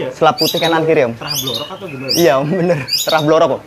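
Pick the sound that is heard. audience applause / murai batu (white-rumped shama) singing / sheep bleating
murai batu (white-rumped shama) singing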